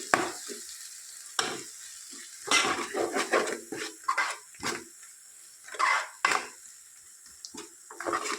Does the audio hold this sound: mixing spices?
yes